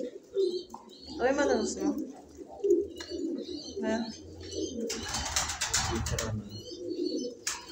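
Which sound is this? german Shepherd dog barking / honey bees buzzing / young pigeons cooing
young pigeons cooing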